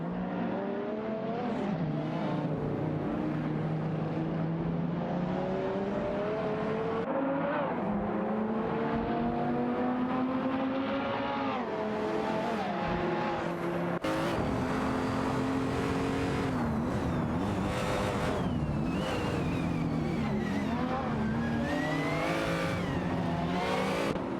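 Race cars in an AI racing video game roar continuously, with engines revving up and down in overlapping pitches, shifting gears and occasional tire squeal, loud and dense throughout.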